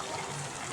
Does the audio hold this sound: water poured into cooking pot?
yes